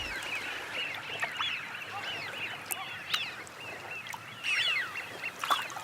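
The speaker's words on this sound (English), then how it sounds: "for these Eurasian widgeons, it's time to replenish their reserves after a long journey" Eurasian wigeons calling at Chilika lake, a steady chorus of whistling and chattering wildfowl at a moderate distance, with occasional sharper calls rising over the wash of the flock.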